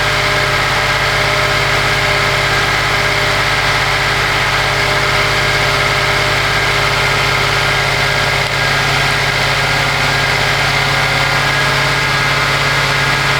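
A Mitsubishi Mirage engine held at raised RPM, a steady, loud, continuous drone with a constant hum and no change in pitch, with no voices over it.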